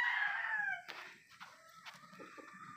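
A gamecock rooster, a young street comb, gives a loud, close crow that falls away in pitch, followed by a few faint clucks and rustles.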